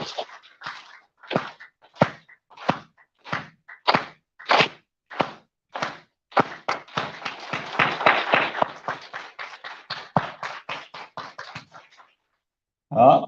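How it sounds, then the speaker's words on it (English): Group of people clapping together at a yoga session, a series of evenly spaced synchronized claps that speed up into faster, denser clapping before stopping. "So let's begin clapping."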